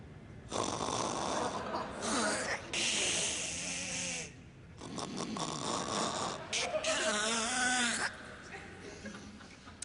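Loud, rasping snores come in long drawn-out bursts, each breath rattling and wheezing, with short pauses between them, recorded up close.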